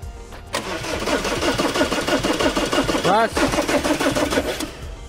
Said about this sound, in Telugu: ఇప్పుడైతే మనం క్రాంకింగ్ చేసి చూద్దాం డీజిల్ వస్తుందో లేదో.